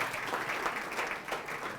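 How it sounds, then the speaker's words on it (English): At a presidential end-of-year dinner, an audience gives sustained applause, a soft, even wash of many hands heard from a distance and a little muffled. "Clap for everyone who has been mentioned"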